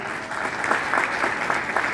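Applause from a concert audience, a steady crowd of clapping hands that swells slightly in waves, sustained and moderately loud without speech.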